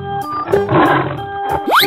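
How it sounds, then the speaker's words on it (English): A cartoon lion gives a single rough, sustained roar lasting most of a second, heard over steady, rhythmic background music with a rising whoosh near the end. "Lion."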